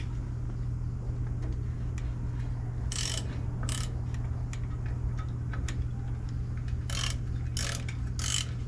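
Wrench ratcheting while tightening a wheel cylinder on a 1984 Dodge W150 truck, with short bursts of clicking and scattered ticks over a steady low hum, close and moderately loud with no talk.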